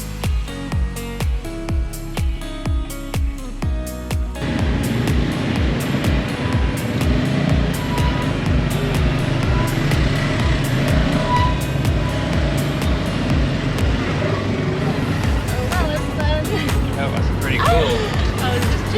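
A tuk-tuk drives near Angkor Wat, its engine droning steadily with wind and road rumble. A rhythmic bumping comes before it picks up speed, and voices talk over the noise.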